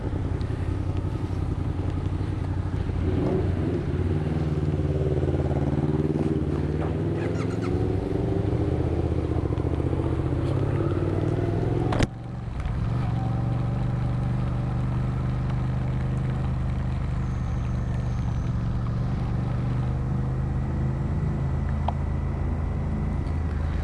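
A CFMOTO 650NK motorcycle ridden along winding roads, its engine droning steadily with the pitch rising and falling through the bends, joined by a sharp brief knock midway, with no talking.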